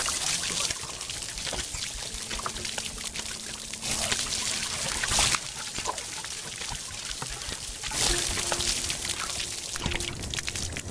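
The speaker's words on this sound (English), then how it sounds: "We have to water them." Water pours steadily onto plants in the VR game Garden of the Sea, a continuous close splashing trickle that swells and eases over several seconds, with no talking.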